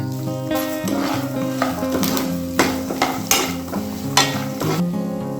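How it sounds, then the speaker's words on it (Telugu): Coconut, coriander seeds and cumin dry roasting in a pan for brinjal curry, with steady sizzling and repeated scraping and stirring strokes, close and loud with no talking. "ఇప్పుడు ఇవి కొంచెం డ్రై చేసి వేపుకోవాలి."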